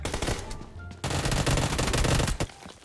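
Loud, rapid automatic gunfire in the video game PUBG Lite rattles in dense bursts, with a short lull before a sustained volley that fades out at the end.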